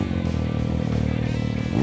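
A turbocharged Can-Am engine in a VW Beetle Baja Bug rumbles loudly and steadily nearby, with a rough, throaty tone and a faint turbo whistle above it.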